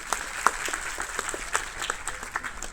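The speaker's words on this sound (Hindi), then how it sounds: "एक बार पुनः जोरदार तालियां होनी चाहिए" An audience applauds after a speech at a school award ceremony for olympiad toppers. The clapping is moderately loud and continuous, with scattered sharper individual claps throughout.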